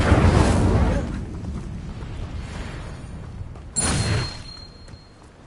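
The Incendio fire spell in a Harry Potter game bursts in two loud whooshing blasts, one at the start and a sharper one a few seconds later, with quieter rumble in between.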